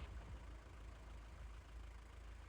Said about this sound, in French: coupez tous les moteurs s'il vous plaît